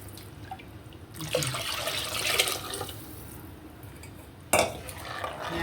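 Liquid is poured into a pot of fish curry in a kitchen, producing a couple of splashy bursts over a low steady background, with no speech.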